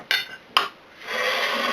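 A utensil scraping a pan while lifting sweet potato pie out of it: two sharp metallic clinks followed by a sustained soft scraping rub, close and clear without talk.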